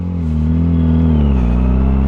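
Yamaha R6 sport motorcycle engine held at a steady high idle of roughly 3,000 to 4,000 RPM, then easing slightly lower. It is close and loud, with a continuous buzzing drone and no voices.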